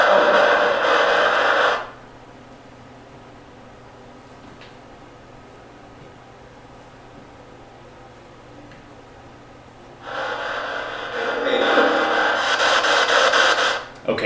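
A PSB7 spirit box radio scanning through static without noise reduction or reverb, loud bursts of broadband hiss at the start and end with a quieter steady static hum between.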